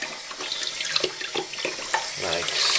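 Tap water runs steadily into a sink while a bottle and its cap are rinsed, a continuous splashing hiss with brief clunks of the bottle, and a voice speaks briefly near the end.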